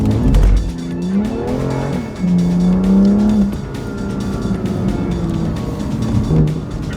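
A BMW M2 pulls away on a practice lap at a performance driving school, its engine revving up through rising tones, close and loud inside the car, with a brief tire squeal.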